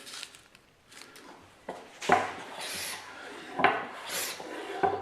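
Hand plane taking fine shaving cuts in black willow wood, several short close rasping strokes with quiet gaps between them.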